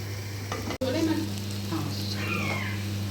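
Onions frying in a pan for chicken achar gosht, a steady broadband sizzle with stirring scrapes running throughout, close and moderately loud, with a constant low hum underneath and a brief dropout near the start.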